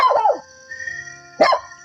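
A dog outside a house at night barks sharply at the start, then again near the end after a quiet gap, close and clear against a still, humming background.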